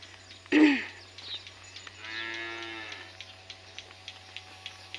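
A short sharp grunt followed by a long, low moo from a buffalo close by, then quiet with faint clicks in the background.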